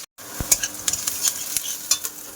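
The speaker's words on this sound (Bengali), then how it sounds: "আচ্ছা তাহলে ঝটপট করে খেয়ে নাও আমি দেখি মাছটা ভাজি" Pieces of rohu fish frying in a pan, a bright crackling sizzle with quick spatula taps and scrapes, close and with no talk.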